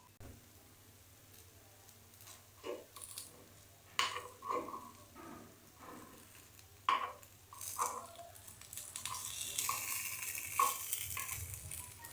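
Rice flour appe frying in an appe pan, a quiet crackling sizzle with intermittent utensil taps and scrapes, growing into a fuller hiss toward the end.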